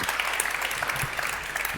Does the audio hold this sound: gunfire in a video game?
no